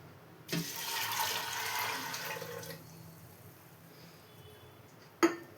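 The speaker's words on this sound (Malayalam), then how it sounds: "ഇനി ഇതിലേക്കൊരു 3 ഗ്ലാസ് വെള്ളം കൂടെ ഒഴിച്ചു കൊടുക്കാം" Water poured from a glass into a pot of chickpeas and turmeric for Kerala-style kadala curry, a steady splashing rush lasting about two seconds, tapering off, then a sharp clink near the end.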